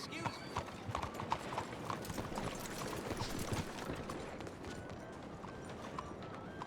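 Horse hooves clip-clop at a walking pace in the video game Red Dead Redemption 2, a steady rhythmic series of fairly close hoofbeats with faint game ambience behind.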